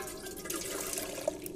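Water pours into a container in the video game The Silent Age, a short, quiet splashing trickle with a brief drip-like accent near the end.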